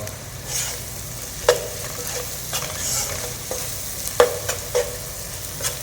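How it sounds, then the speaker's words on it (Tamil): Onions fry in oil for camel biryani, a steady sizzle broken by several sharp scrapes and knocks as they are stirred, close and clear with no talking. "இப்போ வெங்காயம் நல்லா வெந்துட்டுருக்கு கொஞ்சம் ப்ரௌன் ஆகணும்"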